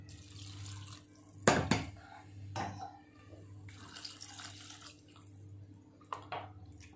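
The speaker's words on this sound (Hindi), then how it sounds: "फिर इसके ऊपर ठंडा पानी डाल देते हैं" Cold tap water running and splashing onto freshly drained noodles in a kitchen strainer, with a soft continuous flow, louder bursts of splashing and faint clinks of metal, heard alone.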